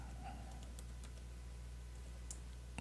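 Someone types on a computer keyboard, giving a few faint, scattered key clicks over a low steady hum in a quiet room.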